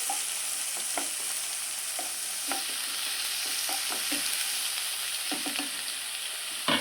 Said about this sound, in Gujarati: અને હવે આપણે થોડીક લીલી ડુંગળી ઉમેરશું અને હવે આપણે આને સતાળી લઈશું